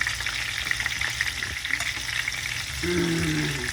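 Snacks frying in vegetable oil over medium heat, a steady close hiss and crackle that runs throughout, with a brief low stirring clatter near the end.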